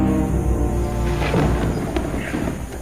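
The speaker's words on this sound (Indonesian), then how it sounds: "Suara petir mulai bergemuruh," Thunder rumbles in an overcast rainforest in Sulawesi as a storm approaches, a loud, continuous low roll that fills the whole stretch without a break.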